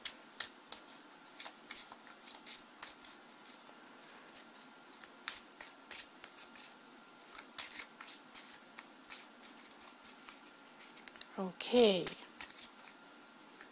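Tarot cards shuffle softly as a repeated faint riffling and tapping under quiet speech, followed by a brief louder flutter of cards near the end.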